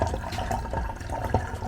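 About 15 ounces of water poured through a funnel while mixing a kitchen sanitizer, giving a steady, close trickling and splashing with a few brighter drips.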